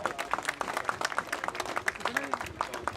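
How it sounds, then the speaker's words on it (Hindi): Crowd applause at a Lahore members' convention of the Barabri Party Pakistan, a steady patter of many hands clapping at moderate level, with some voices faintly underneath. "भरपूर तालियों में इस्तकबाल कीजिएगा शराज अल्ताफ"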